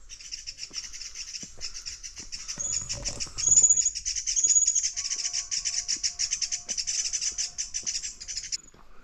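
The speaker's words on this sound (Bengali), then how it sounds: "চারিদিকে পাখির আওয়াজ শোনো" Birds chirp and sing steadily along a mountain trail near Naina Peak in Nainital, with dense high twittering calls throughout, a few louder close notes, some brief low rustling and a faint sustained tone in the background.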